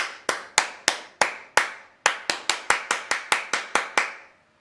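About sixteen single hand claps aimed at an Arduino microphone clap switch, sharp and close, each ringing briefly. The first few are spaced evenly, followed by a pause and then a quicker steady run before silence.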